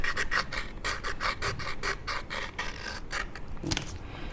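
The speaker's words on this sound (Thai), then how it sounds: "ที่เราขูดออกก็คือเศษกาวเก่าเนี่ยนะคะ" Old glue residue being scraped off the frame of a vivo Y3s phone during a screen replacement, a close, rasping scratch repeated in quick, fairly regular strokes with no talking.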